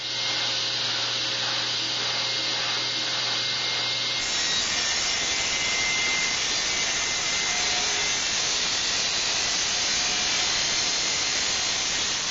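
Steady, loud sawing through wood for tapered end table legs, a continuous rasping stroke that runs without pause, with a low hum in the first few seconds before the cut takes over.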